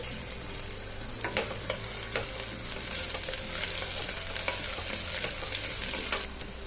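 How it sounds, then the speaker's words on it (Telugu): Cashews fry in hot oil for tomato rice, giving a steady, close sizzle with scattered crackles and a few stirring scrapes throughout, no voices. "ఇందులోనే మనం జీడిపప్పు కూడా వేసుకుందామండి"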